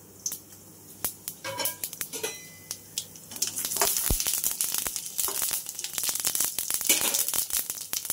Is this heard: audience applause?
no